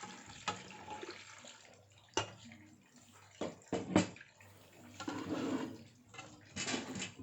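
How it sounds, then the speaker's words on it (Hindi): Two glasses of water poured into a pressure cooker holding chopped tomato, onion and crushed ginger-garlic, heard as quiet intermittent splashes and pours with clattering knocks in between. "दो गिलास पानी डालेंगे।"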